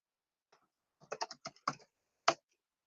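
Typing on a computer keyboard during an online talk: a short burst of crisp, close key clicks in an uneven rhythm, with one sharper final keystroke after a brief pause, in otherwise quiet surroundings.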